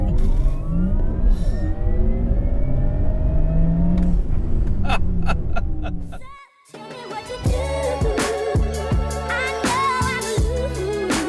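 A Porsche Taycan Turbo S electric car accelerating hard, its motor whine sweeping upward over loud road and wind rush for about six seconds, then giving way to loud music.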